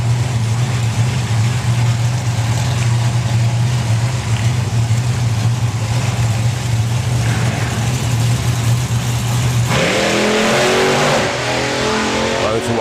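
A drag racing car's engine roars loudly at close range on the strip, then abruptly revs up and launches away in a harsh, rising blast.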